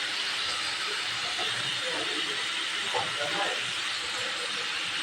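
Prawns dropped into a pan of fried spice masala while cooking a Bengali curry give a steady, loud sizzling hiss throughout, with a brief spatter of crackles near the middle.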